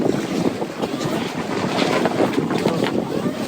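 A sailboat under sail in wind at sea, with heavy, continuous wind buffeting and rushing water noise close to the microphone, loud and unbroken throughout.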